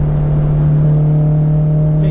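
Acura RSX Type-S engine running close by, a loud, steady droning hum that holds a constant pitch throughout the short stretch, without clear rises in revs.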